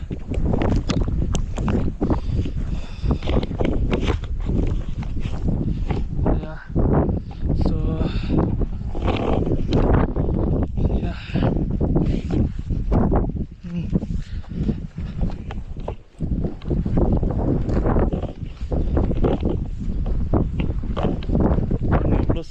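Strong wind and rain in the hills of Wayanad, Kerala roar and buffet the microphone almost nonstop, loud and close, with voices talking faintly beneath the gusts.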